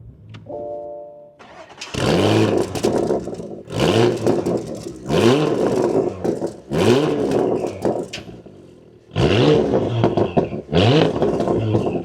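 A 2026 Porsche Macan GTS starts up after a brief electronic chime, then revs several times in a row with rising and falling sweeps, loud and close inside the cabin, with short pauses between the bursts.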